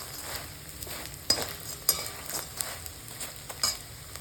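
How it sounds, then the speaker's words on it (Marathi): Edible gum (dink) frying in hot oil in a pan for laddoos, a steady close sizzle with occasional scraping clinks of a stirring spoon, no talk. "डिंक टाकत जावं, तळलं गेलं."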